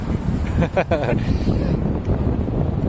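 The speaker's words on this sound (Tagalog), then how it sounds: "lalakas na kasi ng hangin" Strong wind at a seaside shore buffets the microphone in a steady, rumbling roar, with a brief burst of other noise partway through.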